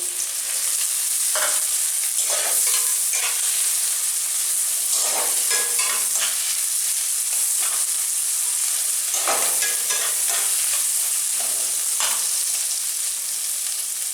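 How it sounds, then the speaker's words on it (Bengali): Katla fish roe frying in a pan with lightly browned onion, a loud sustained sizzle with repeated scraping and stirring strokes close by, no voices. "পেঁয়াজটা হালকা ভাজা ভাজা হয়ে গেলে আমি মাছের ডিমটা দিয়ে দিচ্ছি"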